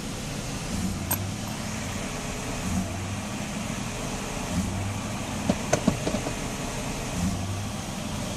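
A Mercedes S 500 idles in limp mode with a faulty E-gas module, its low engine drone surging and dropping back at a slow, irregular rhythm, steady and fairly quiet with a few small clicks and no talk.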